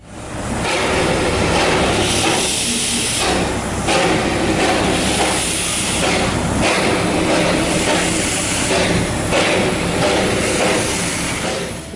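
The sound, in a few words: Darjeeling toy train steam engine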